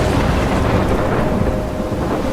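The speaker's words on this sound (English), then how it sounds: "I'm trapped in a storm?" Heavy thunderstorm in the video game Life is Strange: loud continuous rain and rumbling thunder fill the scene evenly from start to finish, with no voices.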